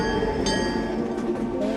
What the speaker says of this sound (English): enjoy a ride on our authentic vintage Earth train